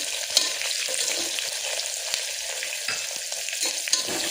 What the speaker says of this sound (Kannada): ಈರುಳ್ಳಿ ಸ್ವಲ್ಪ ಫ್ರೈ ಆಗ್ಬಿಡಿ.